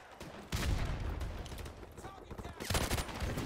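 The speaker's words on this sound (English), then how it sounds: "That dude came rolling around the corner with gun drawn, bullets flying." Gunfire on the Shipment map in Call of Duty 4 Modern Warfare Remastered, heard as loud rapid bursts of automatic fire that stop briefly, then resume, with a voice faintly under it.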